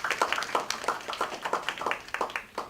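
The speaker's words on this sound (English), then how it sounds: "Give yourselves a round of applause." Scattered applause from a small audience at an in-person talk, with a handful of people clapping in uneven, fairly close claps that thin out toward the end.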